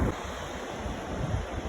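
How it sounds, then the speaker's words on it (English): Ocean water rolling at a beach, a broad steady wash of surf mixed with wind buffeting the microphone. "Listen to the water, rolling through the ocean."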